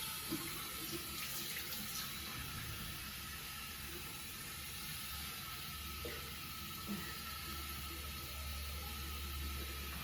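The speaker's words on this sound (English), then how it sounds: "That first shower, always amazing." A hospital shower runs steadily, a continuous broad hiss of spraying water that stays even and unbroken throughout with a faint low hum beneath and no voices.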